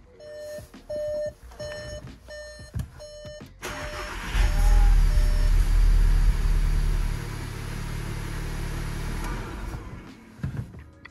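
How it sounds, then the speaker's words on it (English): A car engine cranks and fires up after a series of dashboard chimes during a Stage 1 tune flash, settling into a loud steady idle before quieting near the end. "do the bit where I start the car, turn it off again"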